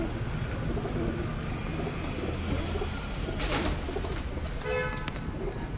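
Low coos from Teddy and Golden pigeons repeat softly over a steady background hiss, with a brief rustle partway through.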